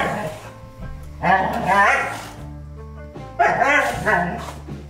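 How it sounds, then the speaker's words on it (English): Rhodesian Ridgebacks growling and snarling in two loud bursts, close by, with snorts and gruff vocal noises between quieter pauses. "a cacophony of snarls, snorts, growls, and crashing dogs"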